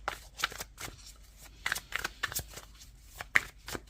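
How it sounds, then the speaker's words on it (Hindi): Tarot cards are shuffled close up in quick irregular bursts of crisp riffling and flicking, with short gaps between strokes and no talking. "मैं फीलिंग का एक और कार्ड निकालूंगी"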